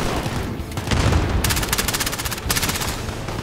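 Rapid bursts of gunfire and a booming frag grenade explosion in a Modern Warfare co-op shooter game, loud and dense with repeated sharp cracks.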